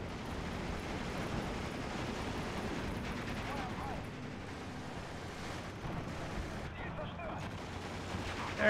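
WW2 battlefield gunfire in Steel Division 2, a dense continuous rumble of distant shooting and blasts mixed with game ambience, steady throughout, someone speaking over it.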